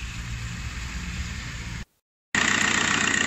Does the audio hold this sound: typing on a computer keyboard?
no